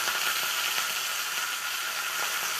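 Mustard seeds, cumin and curry leaves sizzle in hot oil, a steady close hiss with faint crackles running for a few seconds, no talking.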